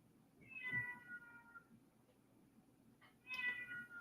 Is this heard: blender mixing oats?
no